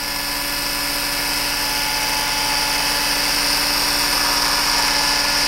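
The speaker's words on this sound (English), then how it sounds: "drilling a little hole in the end of the ulna" A small high-pitched drill whines steadily and loudly the whole time, boring a hole in the end of a bird's ulna bone, a continuous motor buzz with no pauses.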